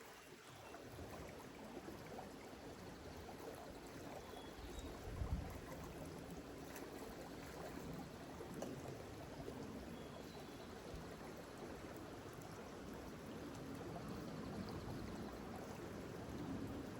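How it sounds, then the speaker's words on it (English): A mountain stream flows steadily along a trail, a faint, even rushing and trickling of water with no other sounds standing out. "Beautiful stream."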